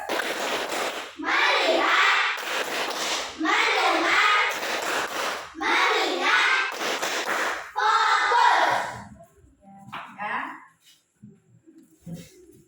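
A class of children performs a rhythmic clapping chant, loud group bursts of voices and claps repeating in an even pattern, then breaking off into scattered quieter chatter and taps.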